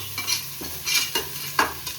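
Whole spices roasting and being stirred in a hot pan for mutton sambar, giving a soft sizzle with several quick scraping stirs close by, no talking.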